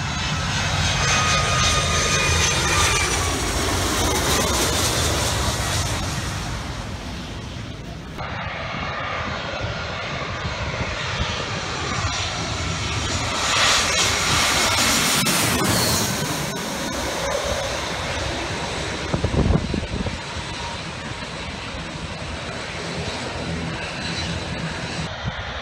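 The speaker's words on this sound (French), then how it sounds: "Des avions sur la plage Mao, il y en a des petits, des grands, mais leur point commun, c'est qu'ils passent tous au-dessus de la plage." Airplanes passing low over Maho Beach, St Martin, with a loud engine roar that swells and fades across long stretches as aircraft fly overhead, with faint beach sounds underneath.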